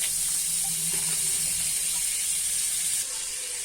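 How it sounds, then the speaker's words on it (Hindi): Butter melting in a hot kadai for butter chicken gives a soft, continuous hiss and faint sizzle, close and steady for a few seconds with no voices. "मेरा कढ़ाई गरम हो चुका है जिसमें मैं बटर को डालूंगी।"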